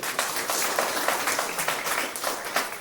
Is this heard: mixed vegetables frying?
no